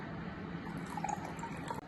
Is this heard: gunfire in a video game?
no